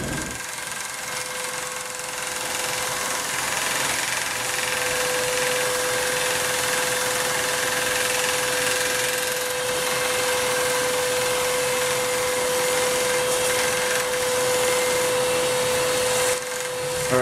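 Small 1x30 belt sander grinding pieces of glass baffle for a 29 gallon freshwater sump, a steady continuous whine with a constant tone, close and running without pause and with no talking.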